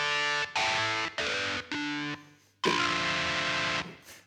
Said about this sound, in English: It sounds a bit too distorted for me.